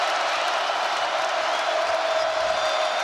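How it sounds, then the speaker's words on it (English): Basketball arena crowd roaring in a continuous, dense wash of cheering during a college game, steady and loud without break. "This crowd's into the ball game now."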